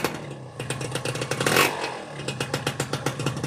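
A modified Suzuki Satria 120 R motorcycle engine fires up and runs rough, a hard burst of revving swelling in the middle, then settling into a rapid, close, uneven idle with regular pulsing beats.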